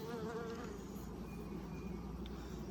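Honeybees buzzing steadily around an open hive during an inspection, a continuous droning hum close by with no speech, the swarm's tone wavering slightly as individual bees pass near.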